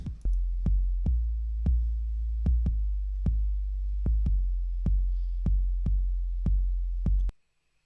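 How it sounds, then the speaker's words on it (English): An emo rap beat with deep, booming 808 bass hits under crisp percussion clicks, steady mid-tempo rhythm, loud and upfront, ending abruptly. "So now with the 808 it should sound like this."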